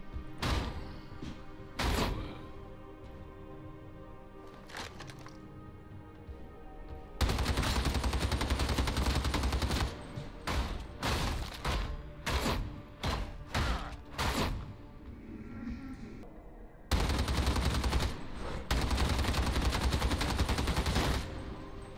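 A heavy stubber machine gun in Warhammer 40K: Darktide fires scattered single shots, then long, loud sustained bursts of rapid automatic fire with a pause and a final extended burst, no talking.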